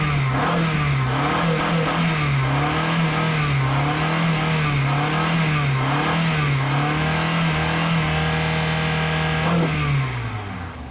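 A 2005 Honda Accord engine runs steadily up close and revs in repeated gentle cycles, holding a smooth, even drone throughout before it eases off near the end. No voices are heard.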